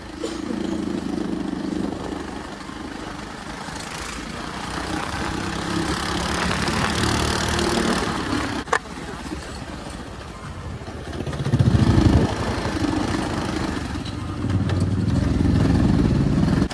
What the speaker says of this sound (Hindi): और अभी हम बाइक चला रहे हैं, और हमारी बाइक बहुत ही लाउड है